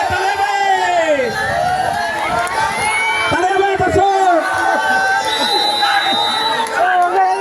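Many spectators at a traditional village tug-of-war game in rural Bengal shout and cheer continuously, a dense, lively mix of overlapping voices with rising whoops, close by, while an announcer talks over the crowd.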